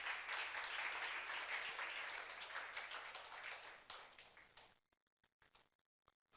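Church youth congregation applauding during a sermon, a dense burst of clapping that fades out over about five seconds, leaving near silence with a few scattered claps.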